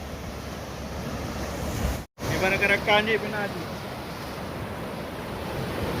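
Sea waves washing onto the shore at Laweung beach, a steady broad rush of surf mixed with wind buffeting the microphone, while someone speaks briefly partway through.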